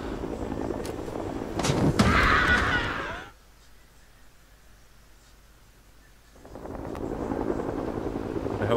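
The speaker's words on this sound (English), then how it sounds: "The helicopter landed behind Bravo." Military helicopter in a Rising Storm 2: Vietnam battle, its loud rotor and engine roar mixed with bursts of gunfire and artillery. The din drops out abruptly for about three seconds mid-clip, then returns at full strength.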